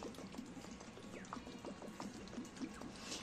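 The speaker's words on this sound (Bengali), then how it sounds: "জলটা দেবেন পরিমাণ মতন।" Water pours into potato posto in a pressure cooker with a soft, continuous trickle and splash, quiet and close, with no talk.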